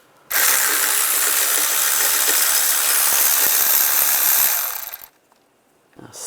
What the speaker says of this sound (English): We want to take that bolt out. Using a 14mm socket.